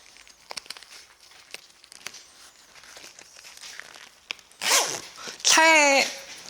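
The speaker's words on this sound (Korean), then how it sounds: "여기 끝단에서 지퍼 걸고 쭉 당겨서 지퍼 고정만 해주면 마무리가 되거든요" A zipper is pulled closed along the waterproof cover of a Thule Approach soft-top rooftop tent on a car roof, a few scattered clicks and rustles followed by two loud, close, drawn zips.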